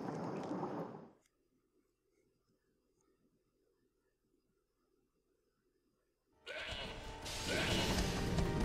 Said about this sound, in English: It's like a crazy goat.